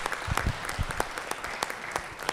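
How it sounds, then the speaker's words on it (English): Senate chamber audience on the Georgia Senate's opening day claps for the pages, a modest, fairly distant round of applause with scattered individual claps. "So y'all give our pages a round of applause."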